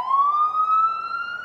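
A rising and falling siren wails on a New York City street, a single steady electronic tone with harmonics that sweeps slowly upward across the short stretch, loud and close with no other sound.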